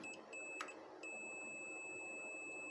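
A multimeter on continuity mode beeps while probing a transistor in an ANERN AN-SCI02-PRO-6200 inverter: a thin, steady high tone that cuts in and out a few times, then holds continuously, faint and close, with no talk.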